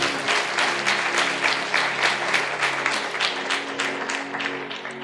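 An audience claps together in a sermon hall, a dense, loud burst of applause that keeps going steadily for several seconds and then begins to thin out slightly.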